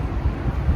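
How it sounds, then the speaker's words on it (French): Strong wind gusting outdoors in Marrakech, a steady low roar battering the microphone in uneven surges, loud and close with no other sounds. "Il y a du vent de fou"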